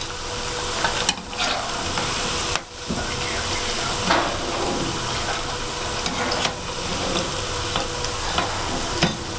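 Freshly fried pakoras are lifted out of a kadhai of hot oil, loud continuous sizzling and bubbling with occasional scraping and clinks of the slotted spoon.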